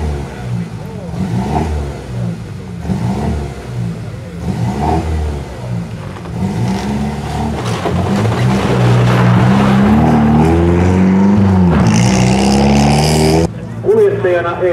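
Rally cars arrive at the finish in Heinola's town square, engines revving and accelerating nearby, rising to a loud, sustained roar near the end, with a commentator speaking over them throughout.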